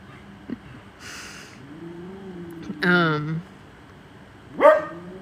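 A dachshund barking indoors, a few separate sharp barks and a yelping whine spaced out over the moment, fairly close.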